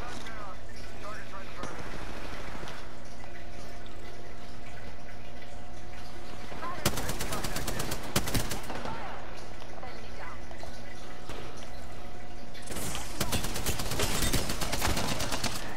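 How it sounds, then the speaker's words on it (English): Gunfire rings out in a ranked online shooter match: several loud, broadband bursts cluster mid-way and again near the end, mixed with steady game ambience while a player talks over it. "Somebody's shooting at him."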